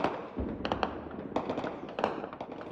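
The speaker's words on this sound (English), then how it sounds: "Gunshots echo through Goma, one of the largest cities in the Democratic Republic of Congo" Sharp gunfire cracks echo across Goma, a large city in the Democratic Republic of Congo, coming as scattered single shots and short clusters at a middle distance over a low, continuous urban background.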